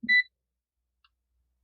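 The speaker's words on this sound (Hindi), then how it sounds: "बजर कितना फास्ट इसका है मैं दिखाता हूँ आपको।" A Bluetooth multimeter in continuity buzzer mode gives one short, clear electronic beep, followed by a tiny faint tick and then silence.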